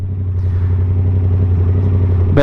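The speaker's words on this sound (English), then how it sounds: "audio of that exhaust bike sound." A 2022 Yamaha R7 motorcycle's exhaust holds a loud, steady idle-like drone with a strong low rumble throughout, ending in a sharp burst as the throttle blips near the end.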